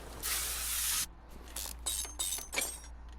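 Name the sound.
spray painting car part in Car Mechanic Simulator 2021 video game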